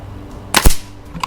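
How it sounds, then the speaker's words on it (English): A single sharp shot from an FX Wildcat MK2 air rifle fired at a 20 m target, loud and close, with a short decay and a faint pellet impact tick about half a second later. "Nothing wrong with the zero on this rifle, Mrs. TinCan."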